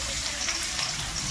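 Six green chillies and chopped onions frying in hot mustard oil for a broiler chicken curry, with a steady bright sizzle and crackle throughout, close and fairly loud.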